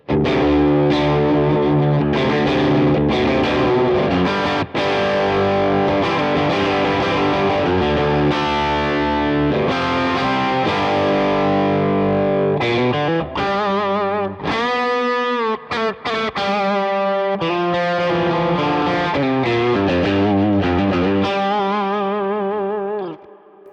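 An electric guitar plays a lead passage through a Toneking Imperial MKII's Synergy module on the lead channel, heavily distorted with sustained notes, quick runs and ringing chords, loud and continuous with no talking.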